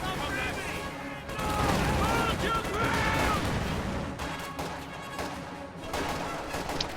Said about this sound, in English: Sniper firing on Grenadiers